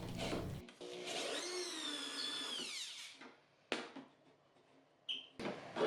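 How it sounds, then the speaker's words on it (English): A cordless drill whines as it backs screws out of a small nightstand's base, a rising and falling motor tone followed by short bursts and knocks of wood and metal. "I use my drill to remove all the screws"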